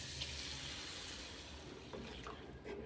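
Water pours into a pan of fried onions for a spicy modak curry, a continuous splashing gurgle that runs steadily for a few seconds and fades slightly near the end, with no talking.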